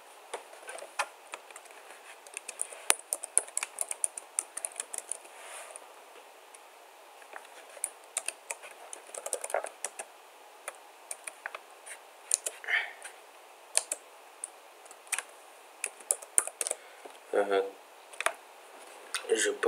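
Rapid, irregular keystrokes on a computer keyboard click away at close range, arriving in bursts with short pauses between them.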